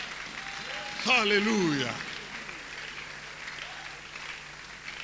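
A church congregation claps in acclamation of the king, a broad wash of steady applause running throughout, swelling briefly as a voice sings out a drawn-out alleluia over it.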